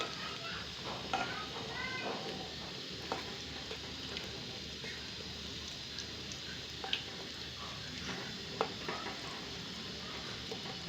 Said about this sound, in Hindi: जब तक गोल्डन नहीं हो जाते तब तक हम इसको फ्राई करेंगे